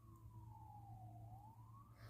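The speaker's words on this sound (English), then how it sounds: "And there's the sirens." Distant emergency vehicle siren wailing in one long, slowly falling then rising sweep over a steady low hum, faint and with no talking.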